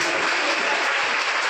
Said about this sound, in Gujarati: સાઉન્ડના ઓપરેટરોને તાળી બજાવો।